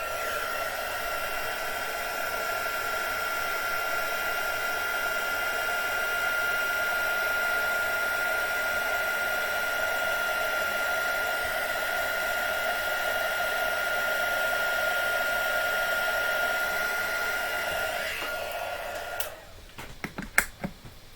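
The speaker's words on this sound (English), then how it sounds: "Heat gun." A heat gun blows over a stamped card with a steady, loud whooshing hiss and high whine for a long stretch, then cuts off followed by a few clicks and handling noises.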